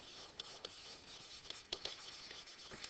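A pen scratches across paper writing out an element name, soft and close, with faint strokes and occasional sharper taps as letters are formed.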